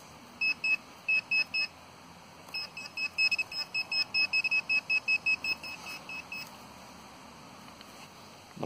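A metal detector gives repeated short electronic beeps, first in small bursts, then a long run of rapid beeps, over a quiet outdoor background.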